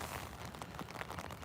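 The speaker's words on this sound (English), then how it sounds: "It's all just big drops of rain, honestly." Large raindrops splash steadily onto a lake surface, an irregular patter of close, soft plinks and drips with no voices, moderately quiet throughout.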